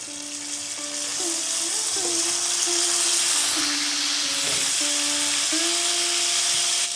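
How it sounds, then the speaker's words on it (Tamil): Prawns sizzle steadily in hot oil during a second deep fry, a loud continuous frying hiss with a faint whining tone running through it. "வாங்க மீண்டும் ஒரு முறை பொரிச்சுக்கலாம்."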